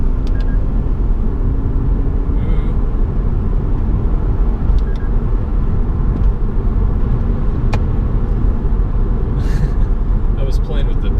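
A Lexus IS300 sedan's engine drones steadily from inside the cabin while driving, with the driver working the shift paddles; a continuous low rumble with faint clicks, and no speech over it.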